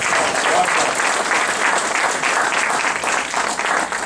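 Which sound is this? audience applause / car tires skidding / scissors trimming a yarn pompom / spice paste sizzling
audience applause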